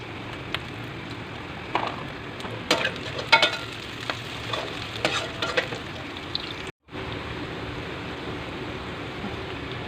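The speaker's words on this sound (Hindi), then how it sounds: "चार 5 ये गोल वाली मिर्चें ऐड होंगी।" Round chillies frying and sizzling in a hot pan for chicken karela, a steady close crackle with a few louder stirring clatters and pops and a brief cut near the end.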